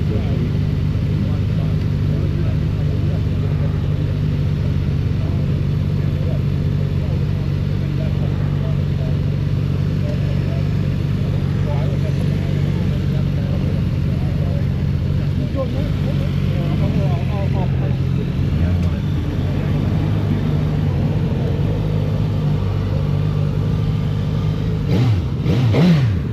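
A Suzuki GSX-S1000GX+ motorcycle engine drones steadily under way, loud and continuous with wind noise, its pitch shifting slightly as the rider changes speed; a rider talks over it at times.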